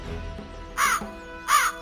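A crow gives two loud, harsh caws about three-quarters of a second apart, each short and clear over a faint, quiet backdrop.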